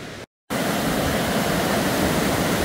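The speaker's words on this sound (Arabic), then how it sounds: "شوف الشلالات اللي نازل من فوق" Waterfalls pour down a rain-fed Swiss valley, producing a dense, steady rushing roar after a brief moment of silence near the start, continuous and loud with no voices.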